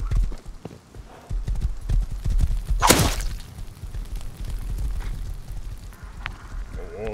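Rapid hoofbeats clip-clop steadily as horses gallop in the game Rust during a jousting tournament, broken by a sharp whooshing swish midway, with game-like effects in the background.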